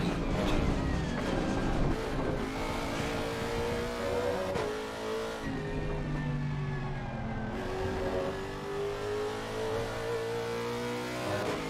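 Race car engine in the sim racing game Assetto Corsa Competizione, revving up and down through gear changes as it brakes and accelerates around corners, loud and continuous with tire noise.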